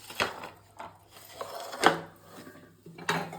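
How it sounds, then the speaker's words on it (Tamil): Clattering kitchen sounds, a few scattered knocks and clinks of utensils against a pot as fried eggplant is added for kathirikai kulambu, close by and fairly quiet. "இப்போ அந்த கத்திரிக்காயையும் எடுத்து அதிலே போடணும்."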